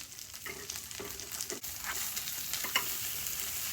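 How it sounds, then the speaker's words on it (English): A shrimp quesadilla sizzles in a hot pan with a steady crackling hiss, punctuated by occasional scraping and clinks of a utensil. "we're going to let the quesadilla finish frying on the other side"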